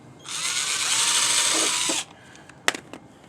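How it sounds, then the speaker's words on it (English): A power drill drives into wood at an angle, a close, loud, steady whine lasting just under two seconds before stopping, followed by a couple of brief clicks and knocks. "Try not to drill too close to the edge of the wood or it'll split."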